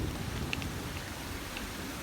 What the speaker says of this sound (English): Some more little waterfalls.